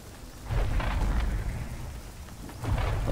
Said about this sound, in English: Stop it, storm.